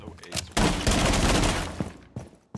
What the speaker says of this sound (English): I shot that guy